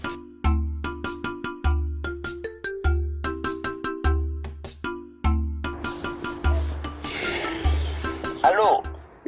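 A phone rings on an outgoing call, a repeating electronic ringtone pattern of regular tone bursts that is loud and close, with noisy speech-like sound rising over the later rings.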